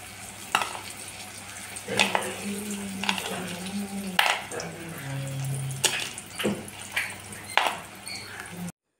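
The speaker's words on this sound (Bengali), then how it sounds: "আর কতখানি মুচমুচে হয়েছে সেটা আপনাদের শুনিয়ে দিচ্ছি" Crispy fried pointed gourd (potol) is broken and crunched close up, giving a series of about eight sharp, separate crackling snaps over a low steady hum.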